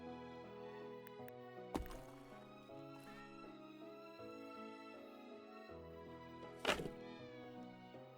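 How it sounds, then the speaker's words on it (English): Cat meowing in the Hidden Paws Mystery video game, a couple of short meows cutting through steady background music. "I'm gonna say there's definitely a cat somewhere in here. I can hear them meowing."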